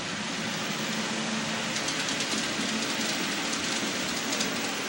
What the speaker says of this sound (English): the tourist train going by in the background there